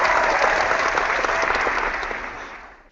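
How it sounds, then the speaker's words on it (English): Round of applause from a small podcast audience, a steady dense burst of clapping that carries for a few seconds and then fades away. "let's give Greg a round of applause for that introduction"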